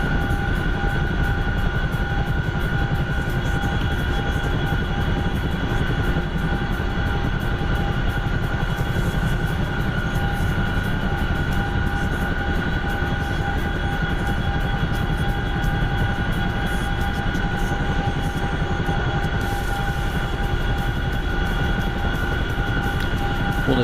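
A small aircraft's engine drones steadily through a landing approach in gusty wind, a loud continuous hum with fixed tonal whine that holds unchanged throughout, with no speech.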